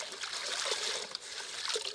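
Water trickles and drips steadily as dusty crop leaves are lifted out of a container of water, a close, continuous wet patter with no voices.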